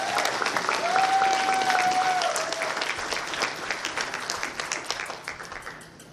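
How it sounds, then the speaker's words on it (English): An audience at a convention closing ceremony claps and cheers loudly and steadily, with a brief whistle early on, and the applause then thins into scattered claps as it fades out. "So big applause for the shirt design, Talenchi."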